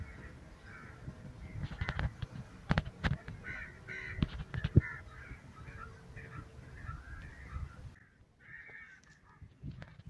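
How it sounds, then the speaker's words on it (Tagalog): Crows by the sea give repeated harsh caws in bursts over a soft background of wind and water, moderately distant, with no talking. "Napakaingay ng mga ibon na to."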